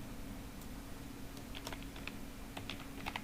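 Soft, irregular clicks of a computer keyboard as a message is typed into a web form's text area, sparse at first and then in quicker bursts over a steady low hum.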